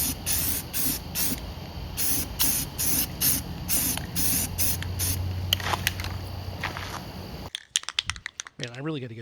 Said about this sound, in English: So we're gonna spray from one side, and we're gonna spray from the other side.